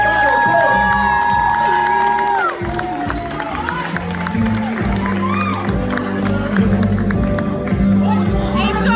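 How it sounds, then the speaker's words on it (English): Live audience at a poetry jam at World Cafe Live in Philadelphia cheers, whoops and claps loudly and continuously, a dense crowd roar with shouts rising throughout. "Ladies and gentlemen, round of applause."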